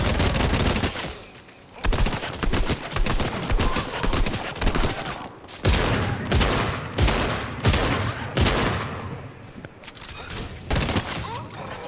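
Video game gunfire, a dense continuous barrage of rapid shots filling the whole stretch, loud and up front with little pause.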